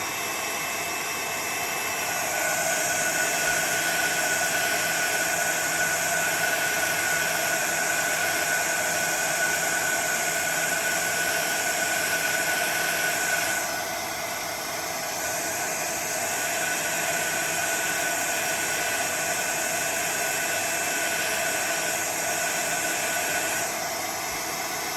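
A heat tool blows hot air over self-adhesive backing on playing cards, making a steady, loud whooshing hiss that dips briefly partway through before resuming.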